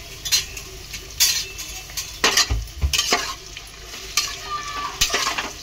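Tomatoes and green chillies saute over a high flame, a steady sizzle punctuated by frequent brisk stirring scrapes and metallic clinks of a spoon on the pan, close and moderately loud.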